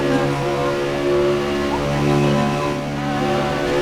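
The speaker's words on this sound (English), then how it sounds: "Not sure as the engine volume is very loud." Loud, steady race car engines drone in a Daytona 500 stock car racing video game, layered tones holding at a constant high pitch with no audible talk.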